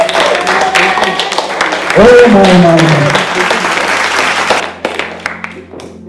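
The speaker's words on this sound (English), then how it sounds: "clap your hand for Jesus." A church congregation clapping for Jesus, a loud sustained wash of applause from a crowd that swells and fades, with a voice calling out and talk over it.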